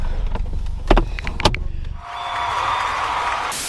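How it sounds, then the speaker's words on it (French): Electric convertible roof on a Mazda MX-5 ND closing: a couple of mechanical clunks and latch thumps give way to a steady motor whir that runs for about a second and a half, heard up close inside the car. "je crois qu'on va recapoter"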